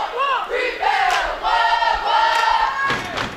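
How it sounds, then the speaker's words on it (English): Cheerleaders chant their rebound cheer at a basketball game, a loud crowd-style cheer of raised voices rising and falling over a few seconds, with thumps and arena noise underneath. "You can hear our cheerleaders in the background doing their famous rebound cheer."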